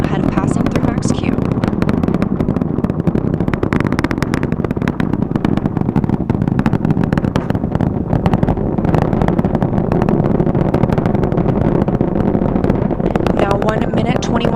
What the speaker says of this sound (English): The 4 core stage engines are back at maximum thrust.